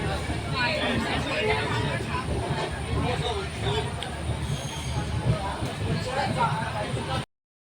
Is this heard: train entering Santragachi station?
yes